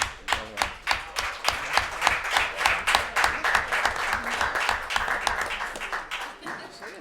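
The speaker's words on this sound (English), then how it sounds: "I was just shocked to see Caroline clapping over here." Rhythmic group clapping at a public interest meeting about a multi-sport complex and YMCA childcare facility, a run of fairly even claps from several people in a room, with some voices murmuring underneath as the clapping tapers off.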